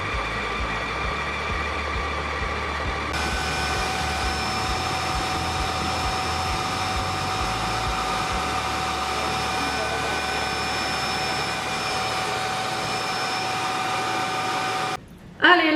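A floor vacuum cleaner runs its self-cleaning brush cycle with a steady, loud whirring hum and a constant motor tone, stopping abruptly near the end.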